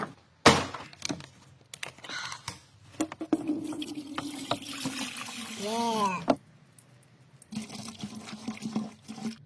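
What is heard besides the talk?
pouring distilled water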